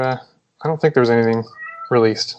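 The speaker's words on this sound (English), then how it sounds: "I'm sorry about the cat. She's so loud." A cat lets out a few loud, drawn-out meows close by, mixed in with a person speaking.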